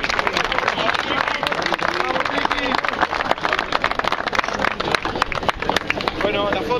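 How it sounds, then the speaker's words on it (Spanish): A crowd at a beach fishing contest at Balneario La Paloma claps loudly for a winner, dense continuous applause filling the whole stretch with voices mixed in. "Fuertes aplausos para él"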